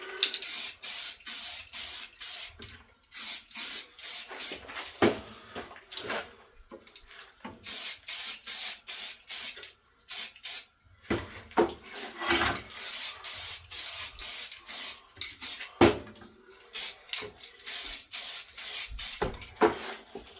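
Spray tint dusted onto car rear lights in repeated short bursts, each hiss lasting a second or two with brief gaps between, close and fairly loud with no talking.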